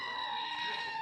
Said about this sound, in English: press the goat button. There's a goat button.